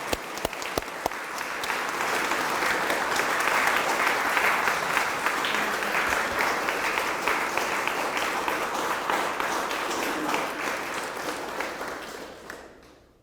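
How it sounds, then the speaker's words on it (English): Audience applause at a military retirement ceremony for a sergeant major, opening with a few scattered claps, swelling into a full steady round and fading out at the close. "please stand and join me in a round of applause for the man of the hour"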